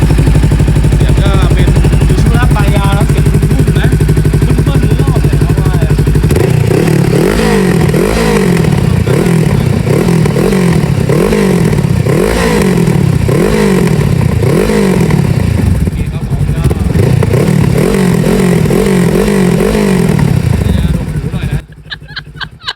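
A 2018 Honda CBR500R motorcycle engine runs loud and close, first a steady drone, then a series of repeated throttle blips rising and falling in pitch, before cutting off near the end.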